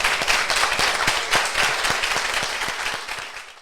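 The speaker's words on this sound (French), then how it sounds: "Je vous demande de faire un tonnerre d'applaudissements pour Jean-Pierre Heudier" Applause from an audience at a Paris Marathon 2024 finishers' celebration, welcoming a finisher; sharp separate claps stand out over a dense wash of hands, steady then slowly thinning out.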